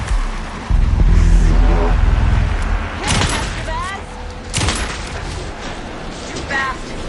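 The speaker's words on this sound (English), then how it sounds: "Anderson, pin him down with gunfire for me to get the light on him." Gunfire and impacts in the video game Alan Wake, a few sharp bursts amid heavy rumbling game sound, with characters talking throughout.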